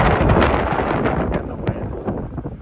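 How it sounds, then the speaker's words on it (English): Wind blowing outdoors on a lake during a fishing trip in high winds, a loud continuous rumbling buffet across the microphone that swells and eases in gusts. "Is that wind again?"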